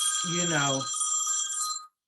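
A telephone rings with a bright, steady electronic trill close by, lasting almost two seconds before cutting off abruptly, with a brief voice heard under the start of the ring.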